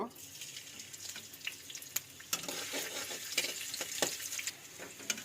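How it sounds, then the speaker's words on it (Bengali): Chopped garlic frying in oil for a spicy homemade pasta, a soft sizzle with scraping stirs and clatter, fairly faint and close, with some rustling noise alongside. "এবার একটু তেল নিয়ে নেব আবার। এবার একটু রসুন কুচি দিব,"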